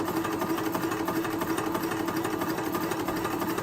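A Crossfire instrument air compressor runs steadily while filling a 20-gallon tank, producing a constant, even mechanical hum with a fine rapid pulsing texture, close and uninterrupted, with no voices.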